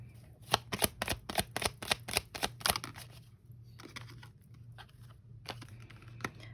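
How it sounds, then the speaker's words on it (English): A deck of tarot cards is riffled and shuffled up close, giving rapid, crisp snapping bursts at first, then softer, sparser card rustling. "as I've been shuffling, I've seen the World card several times"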